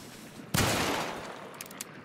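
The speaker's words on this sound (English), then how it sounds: "Stop shooting me." Video game gunfire: a single loud, close burst that tails off quickly, followed by a couple of faint, brief shots.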